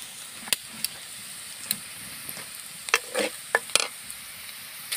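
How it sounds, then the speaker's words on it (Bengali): Onions and chillies fry in hot oil with a steady soft sizzle, while sharp scrapes and clinks of stirring come through at irregular intervals, close and moderately quiet, with no talking. "তো প্রথমে পেঁয়াজ মরিচ তেলের সাথে ভালো করে"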